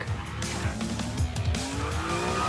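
Dodge Hornet RT crossover accelerating hard, its engine rising in pitch with bursts of tire squeal and skidding over a continuous, fairly loud roar.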